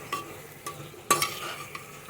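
Prawns cooking with spices in a pan over a medium flame, with a low sizzle beneath a few sharp scraping stirs of a spatula against the metal.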